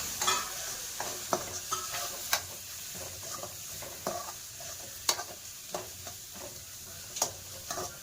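Crushed coconut frying in oil, a soft, steady sizzle with repeated scraping stirs and clinks of a utensil against the pan at an irregular pace, with no talk.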